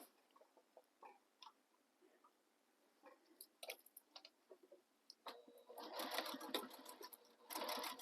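Sewing machine stitching directly beneath the hardware on a handmade sling bag, starting quiet with scattered light clicks, then running in loud, dense bursts of stitching toward the end, with no talk.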